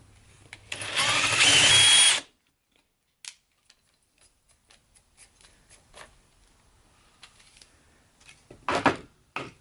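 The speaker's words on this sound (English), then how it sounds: "Plan B, the hole saw." A hole saw bores through pine wood in one loud, close burst lasting about two seconds, then stops, leaving scattered small clicks and handling knocks and a brief rustle near the end.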